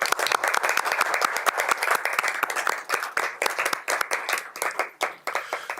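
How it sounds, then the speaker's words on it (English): Audience at a Board of Education meeting gives a sustained round of clapping, dense and steady at first, then thinning into scattered individual claps before fading out near the end. "And one last round of applause for Mr. B."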